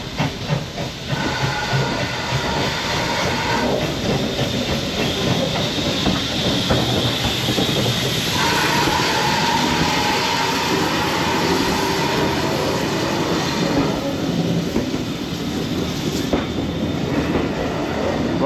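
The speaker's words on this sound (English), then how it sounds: "I love this excitement as a steam train approaches" Steam locomotive 1369 approaching on the South Devon Railway, a steady loud hiss of steam over a rolling rumble with faint clickety-clack of the wheels, continuous throughout with no voices.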